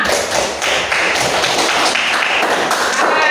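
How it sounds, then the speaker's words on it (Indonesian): A class applauds a student group in a classroom with a thick, continuous wash of many hands clapping close by, staying loud and even throughout with no speech. "Tepuk tangan dulu untuk kelompok kita."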